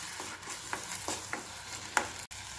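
Tomato masala is sautéed in oil, a low steady sizzle broken by several soft spatula scrapes and one brighter knock, close up and fairly quiet.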